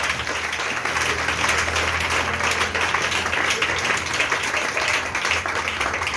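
A church congregation applauding at a French-language worship service: a steady, dense wash of clapping from many hands, fairly loud and continuous throughout.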